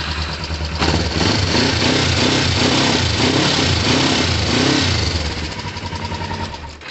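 A motorcycle engine after a CDI swap, starting up and running at a loud, close, steady idle with a rhythmic pulsing throb before the revs drop away near the end.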